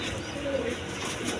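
Pigeons in a loft give a brief, low coo amid soft wing-flapping, close and continuous for a second and a half.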